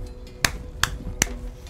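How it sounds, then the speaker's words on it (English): Three sharp claps spaced evenly about a beat apart, quick and crisp against a quiet background hum. "Give us a clap."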